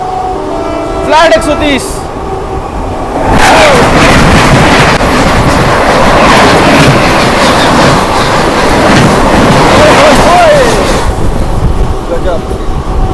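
Indian Railways New Delhi–Bhubaneswar Rajdhani Express passing close by at speed, a loud sustained roar and clatter of wheels and coaches after a brief lead-in, with a horn sounding near the start and end and someone speaking over it.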